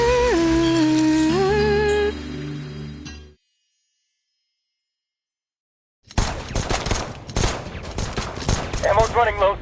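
Gunfire bursts in the video game Reverse 1999, a dense run of loud shots after a short silence, following music at the start.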